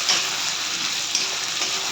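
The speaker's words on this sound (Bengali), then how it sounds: "পেঁয়াজটা দিয়ে দিয়েছি তেলে, পেঁয়াজটা যাতে ভেজে নিতে হবে।" Chopped onion frying in hot oil in a pan, a steady close sizzle with soft crackles running throughout, no voices.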